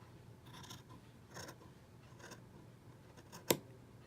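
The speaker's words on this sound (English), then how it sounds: "I'm going to take the scissors and I'm going to cut up the middle" Quiet scissors snip through doll-clothes fabric in a few soft, crunchy cuts, ending with a sharp metallic click.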